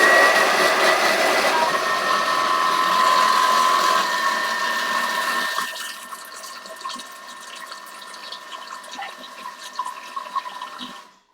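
A Thermomix whirs loudly as it blitzes a chunky creamy dressing, steady for several seconds, then drops to a quieter, uneven churn before stopping abruptly.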